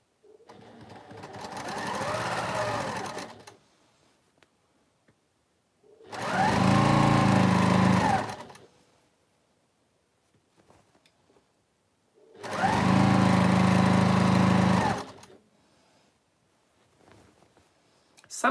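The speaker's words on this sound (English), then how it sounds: "Somehow it feels like you go faster when you've got a bigger piece of fabric you're stitching on." A sewing machine stitching a fabric border runs in three separate bursts of a few seconds each, with a fast mechanical whirring and clatter, close and fairly loud, and quiet pauses between the runs.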